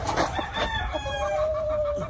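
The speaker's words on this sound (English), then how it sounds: "The rooster is a Kearney White Hackle" Close by, a Kearney White Hackle gamecock lets out a single long crow that holds steady before fading, set against a faint yard background.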